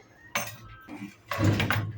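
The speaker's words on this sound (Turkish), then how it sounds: "Çay bardaklarını da alalım. Çatal ve su bardakları." Tea glasses, water glasses and forks clink and clatter in two bursts, close by, as they are gathered and set down in a kitchen during breakfast preparation.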